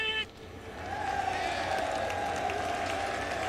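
Baseball crowd at a Mets home game in Queens giving a mock cheer for a thrown strike, a sustained mid-distance roar with scattered whoops that swells after a brief lull and holds steady.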